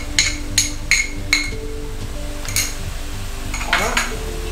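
Tomatoes tipped into onions frying in oil for Punjabi soya chaap, with a spoon stirring and clinking against the pan in several sharp bursts over a low steady sizzle.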